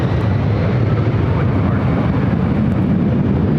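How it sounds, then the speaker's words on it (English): Delta Boeing 757 bound for Detroit rolling for takeoff on runway 24 left at LAX, a broad steady jet roar, loud and continuous throughout. "Delta 757 heading to Detroit, now rolling down to 24 left"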